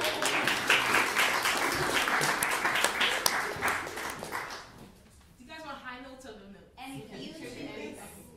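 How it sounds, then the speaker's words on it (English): An audience breaks into a burst of applause after a free improvisation by a quartet, loud clapping that fades after about five seconds as a dog whimpers and yips nearby. "Round of applause."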